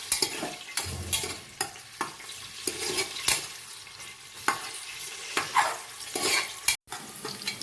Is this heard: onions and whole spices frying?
yes